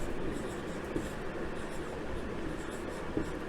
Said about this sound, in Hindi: और यहाँ पर दोबारा विद्यालय लिख देंगे।